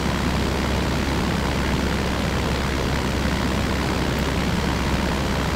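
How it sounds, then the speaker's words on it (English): A propeller aircraft engine drones steadily in the Aerofly FS2 flight simulator game as the plane climbs for aerobatics, a loud, unbroken hum with no voices. "we'll just get some altitude and see if we can perform a few aerobatics in this aircraft"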